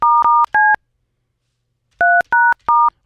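A studio phone system dialing a number: six short dual-tone keypad beeps, three in a quick run, a pause of over a second, then three more, loud and clean with no talk.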